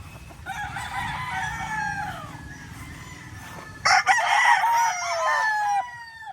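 A Boston Millionaire gamecock crows twice close by, each call a loud, drawn-out rising-and-falling cry, over low background rumble with no talk.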